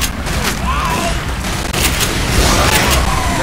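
Dense bursts of gunfire in the zombie-shooter game Left 4 Dead 2, a steady rattle of overlapping shots with booming impacts, fairly loud and continuous over a few seconds, with voices faintly underneath.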